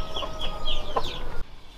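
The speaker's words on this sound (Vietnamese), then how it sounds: "gà qué gì mà gào ẩm lên thế hả Hên?" Chickens cluck and squawk in a rapid run of sharp calls, fairly close and loud, then cut off abruptly into near silence.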